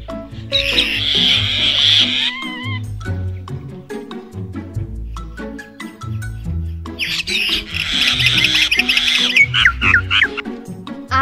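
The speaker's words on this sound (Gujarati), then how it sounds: "આ પક્ષીને કાબર કહેવાય અને કાબરને અંગ્રેજીમાં મેના." A common myna, a village and backyard bird, calls loudly nearby with a varied mix of squawks, chirps, whistles and harsh chattering.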